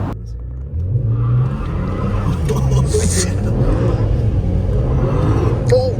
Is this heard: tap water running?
no